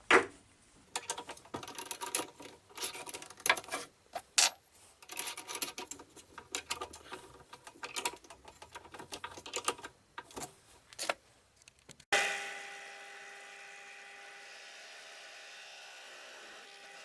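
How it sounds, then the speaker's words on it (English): A 15mm Forstner bit that is not very sharp bores a hole in wood for a kerfmaker jig, producing uneven crackling, ticking cutting noises in bursts, followed by a steady motor hum once the cutting stops. "my Forstner bit isn't the sharpest, so it did struggle to cut it a little bit"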